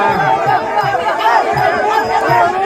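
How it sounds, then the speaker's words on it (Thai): Loud, dense crowd roaring and chanting at a rural Thai boxing (muay phuthon) match, with rhythmic low shouts pulsing steadily throughout as rival sides try to out-cheer each other. "เสียเชียร์ฝั่งไหนจะดังกว่า"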